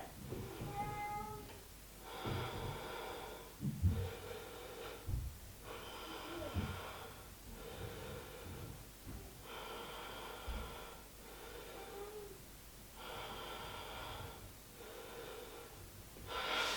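Slow, deep breaths taken while holding a yoga pose, a series of long airy inhales and exhales in a steady rhythm, close but soft.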